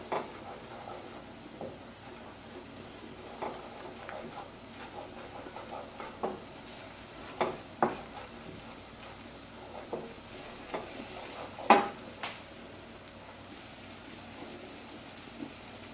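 A spoon scrapes and stirs through a thickening flour mixture in a pan for a vegan spinach artichoke dip, soft sizzle underneath with occasional louder clacks against the pan.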